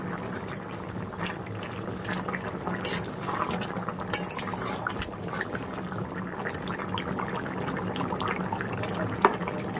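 Pangas fish curry with potato and eggplant being stirred in a pot: steady scraping and clinking of a spoon against metal over a constant bubbling simmer, with a few sharper knocks, close and moderately loud, no talking.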